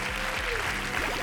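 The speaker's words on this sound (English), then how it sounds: "round of applause to Terry for a wonderful performance" Audience applause at a Classic Tetris World Championship match, a steady wash of clapping from a crowd that fills the whole moment evenly at moderate loudness.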